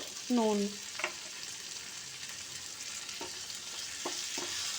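Chopped tomato frying in oil in a pan for rui posto, a steady soft sizzle running throughout, with a few light clinks of a spatula against the pan and no talk.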